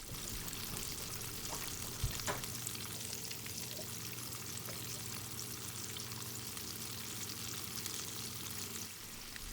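Chicken drumsticks frying in hot oil, a steady broadband sizzle and crackle running throughout, with a brief sharper clink near two seconds as the pieces are turned with chopsticks.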